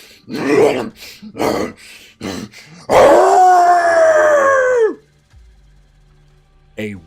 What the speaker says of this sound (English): wolfen howl echoing through the coffin maker's shop